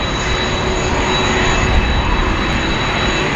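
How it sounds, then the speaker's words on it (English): A Qantas Boeing 767-300 airliner with CF6 jet engines taxis onto a terminal bay at Sydney Airport, its steady loud turbine roar and high whine filling the air, close and continuous with no voices. "Some lovely close-up footage there of the CF6s, taxiing onto Bay 11, Terminal 1."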